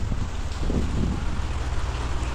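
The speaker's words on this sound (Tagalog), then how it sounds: "And it's our second day at umuulan siya." Steady rain falling on a rainy-season morning in Boracay, a dense, even hiss with low wind rumble and no voices, close and constant throughout.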